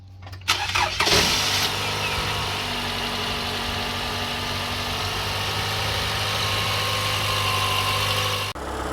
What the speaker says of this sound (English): this little power bank was able to jump start my vehicle